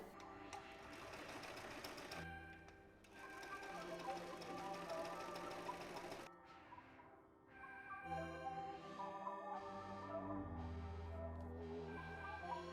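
A sewing machine hemming a dress, whirring steadily in long close runs with a brief pause midway, fairly quiet, no one speaking over it.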